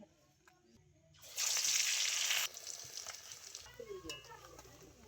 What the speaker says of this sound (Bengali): এবার আমি একে একে সব কটা হিংচা ভেজে নেব।